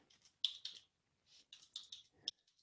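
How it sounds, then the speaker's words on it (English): Keystrokes on a computer keyboard come in short bursts of close, quiet clicks with brief pauses between runs, ending in a couple of sharper taps. "So I'm going to type that out"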